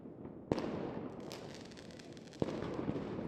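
Fireworks go off in an anime scene, two sharp bursts each followed by a crackling, rumbling spread of sound. They are fairly faint and distant over a soft background.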